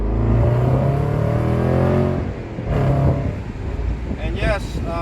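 A 2020 Jaguar F-Pace SVR with a supercharged 5.0 V8 accelerates with a loud, close engine note climbing in pitch. It eases off briefly and then pulls again while a voice talks over it.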